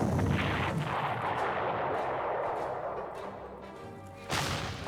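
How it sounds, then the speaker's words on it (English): Artillery strikes in the strategy game GC-39 set around Warsaw: a heavy booming blast rolls into a long rumbling decay, then a second sharp impact near the end. "And we drop artillery on this one."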